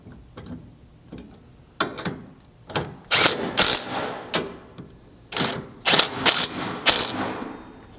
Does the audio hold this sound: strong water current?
no